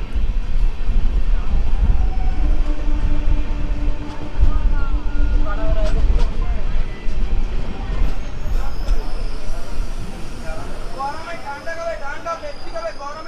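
Tamralipta Express AC chair car train running near Ramnagar, a steady loud rumble of rails and carriage throughout, with a long tonal hum midway and chirping, warbling sounds toward the end, under some background voices.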